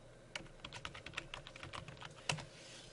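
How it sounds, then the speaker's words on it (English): Quiet, close typing on a computer keyboard, a short irregular run of light key clicks ending in one firmer tap, no voices. "Switch users and type in administrator"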